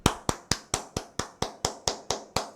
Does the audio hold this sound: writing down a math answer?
no